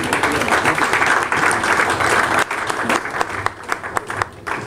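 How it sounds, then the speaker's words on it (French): A live audience at a French-language reading event applauds loudly and continuously, the clapping dense at first and then thinning into separate, sharper individual claps toward the end. "Alors moi j'aime beaucoup les applaudissements parce que quand vous applaudissez, c'est comme si je reçois aussi."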